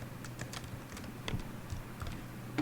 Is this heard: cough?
no